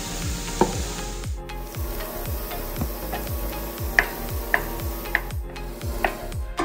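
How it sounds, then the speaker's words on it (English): Turkey sausage browning in a pan, with steady sizzling and rhythmic scraping of a spatula stirring the meat, plus a few sharp clicks of utensil against pan; no voices. "I'm just browning up here my turkey sausage, getting this cooked up."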